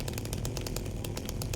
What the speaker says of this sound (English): Really excited about having a chainsaw.